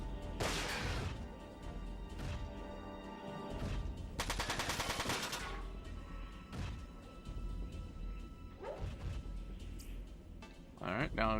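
Machine gun fire in the Front Mission 4 video game: repeated loud gunshot bursts, with a dense rapid rattle in the middle, over busy game sound effects and music.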